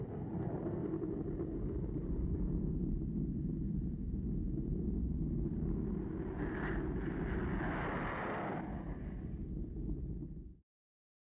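An early jet aircraft, a P-59, gives a steady, distant roar of jet engine noise that swells with a higher whine near the end before cutting off abruptly.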